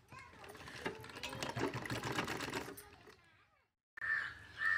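A sewing machine stitches folded fabric for a drawstring wrist bag: a rapid whirring run for about three seconds, a brief silence, then another short burst, close by.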